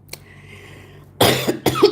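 Someone with a lingering illness from the week before coughs, a small tick, then a quiet pause, then two harsh, close coughs in quick succession.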